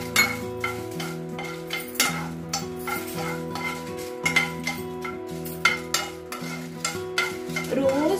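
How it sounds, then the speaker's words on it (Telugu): Flaxseed and chillies dry-roasting in a hot pan, a busy run of close scraping and stirring strokes with light crackle and rattling seeds, steady and without talk. "లైట్ గా ఆ వేడి పెనంలోనే వేయించాలి."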